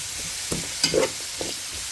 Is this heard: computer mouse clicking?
no